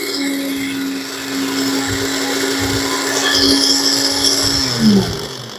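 A 400/500W mini blender/juicer motor whirs steadily at close range for several seconds, then winds down near the end with a brief clatter.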